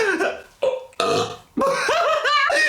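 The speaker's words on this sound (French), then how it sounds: "J'ai roté dans la maison de jeu." A woman lets out several burps after laughing hard while unboxing odd items. Four short, loud bursts come in quick succession, close to the microphone, with brief gaps between them.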